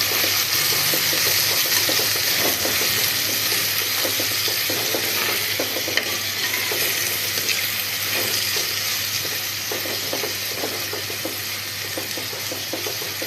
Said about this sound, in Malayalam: പിന്നെ നമ്മൾ ഇഞ്ചി, വെളുത്തുള്ളി, തക്കാളി, പച്ചമുളക് അങ്ങനെയുള്ളതെല്ലാം കൂടെ എണ്ണക്കകത്തിട്ടൊന്ന് വഴറ്റുന്നു.